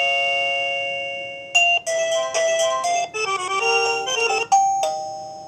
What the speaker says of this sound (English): This is the maximum. And we can actually change the chime as well.